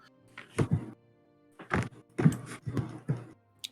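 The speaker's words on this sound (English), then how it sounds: "you can hear that he begins climbing upstairs" Heavy, hollow footsteps in a video game thumping up stairs in an uneven rhythm, about half a dozen dull steps with brief pauses.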